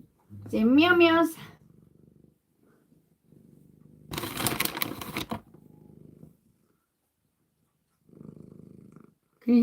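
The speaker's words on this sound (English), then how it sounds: "Can you hear him purring?" A cat purrs close by as a low, rumbling hum in soft stretches between louder bursts of noise, with a brief meow-like cry near the start.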